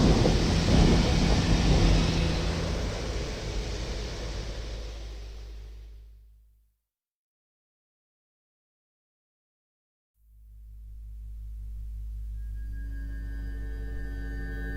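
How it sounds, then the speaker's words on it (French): A thunderstorm with heavy rain and a long rumbling roll of thunder that fades out to full silence, then builds back into a loud, steady storm roar. No voices are present. "Il y eut des éclairs, des voix, des tonnerres, un tremblement de terre et une forte grêle."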